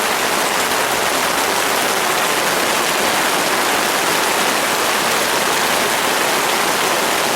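Heavy downpour drums steadily on a Coleman Sundome 4-person 9x7 dome tent, a dense, unbroken roar of rain on fabric that stays loud and even throughout, with no voices.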